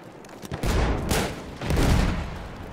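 A scopeless sniper rifle in Battlefield 1 fires loud, booming shots in a few heavy bursts with rumbling tails, close and alone with no talking.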